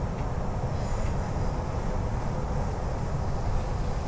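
A Sydney Metro Metropolis train runs on its tracks, a steady loud rumble of wheels and rail noise with a faint high whine, heard from inside the carriage without talk.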